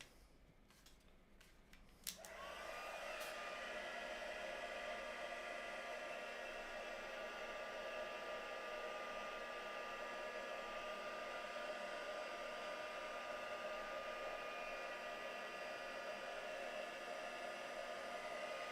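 A hair dryer clicks on after a couple of seconds of quiet and then blows steadily and loudly close by, drying freshly applied paint on an artwork.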